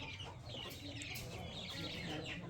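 Hens clucking softly in a backyard poultry coop, a faint, continuous cluster of short calls over a steady background hum.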